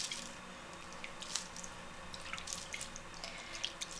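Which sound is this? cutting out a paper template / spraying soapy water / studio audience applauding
spraying soapy water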